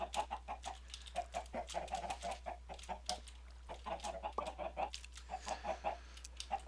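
Chicken clucking in the Minecraft video game, a busy run of short repeated clucks in uneven bursts, near and clear, with no talk over it.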